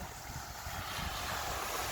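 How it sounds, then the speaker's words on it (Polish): Ocean surf off a beach in Zanzibar, a steady broadband wash of waves with wind noise on the microphone, continuous and fairly loud throughout without any talk. "Tylko szumu fal."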